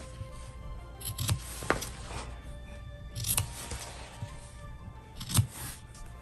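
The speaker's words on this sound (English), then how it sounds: "I'm gonna go ahead and cut the corners." Scissors snip through the corners of sewn fabric in a quiet room, about four crisp separate cuts with short pauses between them and no talking.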